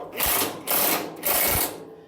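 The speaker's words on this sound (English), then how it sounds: "I'm going to use a universal on a rattle gun" A pneumatic rattle gun (impact wrench) fitted with a universal joint, working on a mulcher-chipper, fires in three short hammering bursts separated by brief pauses, close and loud.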